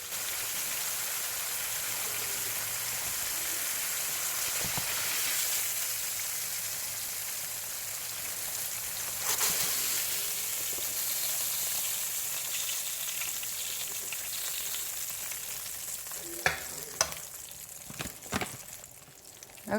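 Cube steak frying in grease in a pan, a steady close sizzle throughout, with a few clattering knocks of utensils near the end and no talk.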